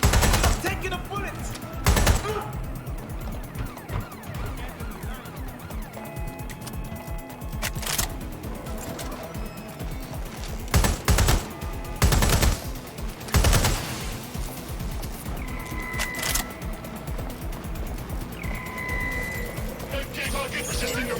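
Gunfire hitting the player in the video game Watch Dogs Legion: several sharp, loud shots and short bursts spread across the clip over steady background noise.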